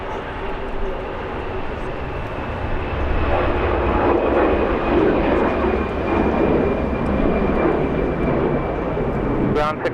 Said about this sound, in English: Massive 777